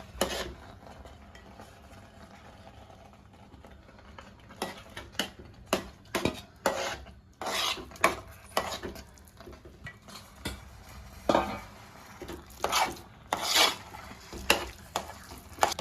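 Thick ragi paste being stirred into a pot while making Nellore-style ragi mudda, giving a series of close, irregular scraping and slapping strokes that grow busier and louder in the second half, with no talking.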